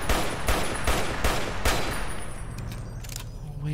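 Rapid gunfire in Fallout: New Vegas, several sharp shots close together in the first two seconds, loud and near, then tapering into a quieter tail.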